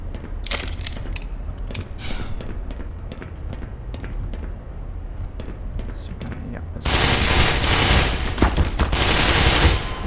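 Rapid gunfire in the first-person shooter Black Mesa, with sharp shots crackling through the first half before a louder, denser burst of sustained firing takes over near the end.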